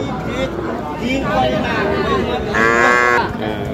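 Cattle low at a busy bull calf market in Nilphamari selling Sahiwal calves, with a loud moo standing out near the end over a steady murmur of crowd talk.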